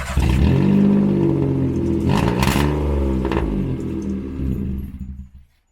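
A Peugeot 107 with a dropped-off rear exhaust backbox runs loud and rough with a coarse, rattling tractor-like drone and a couple of revs, then it cuts off near the end.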